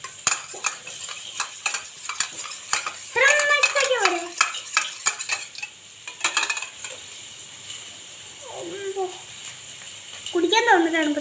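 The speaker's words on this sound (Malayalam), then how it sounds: "എനിക്ക് മുട്ട നല്ലപോലെ മിക്സ് ചെയ്യാണ്" Eggs being mixed in a bowl in a home kitchen, with quick clinking stirs and scraping in bursts, while a pan heats nearby; someone talks over parts of it.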